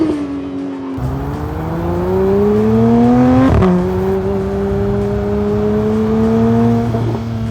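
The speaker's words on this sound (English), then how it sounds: "the first car made by Porsche's GT division based on the 992 platform" A Porsche 911 GT3 of the 992 generation with a manual gearbox revs hard close by, its engine note climbing steadily, dropping sharply at a gear change, then climbing again loud and alone.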